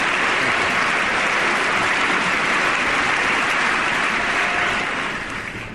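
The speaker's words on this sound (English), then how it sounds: "listen to that applause" Sustained standing ovation from members of Congress at the 2008 State of the Union address, a dense, loud wash of clapping throughout that thins slightly at the very end.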